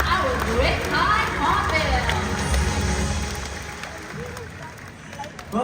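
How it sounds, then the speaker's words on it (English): Audience applause at the Wings of the World bird show at Mandai Bird Paradise in Singapore, following a hornbill demonstration: a crowd clapping loosely for a few seconds, mixed with murmuring and a presenter talking over it. "can we give Vicky and Sunny a round of applause"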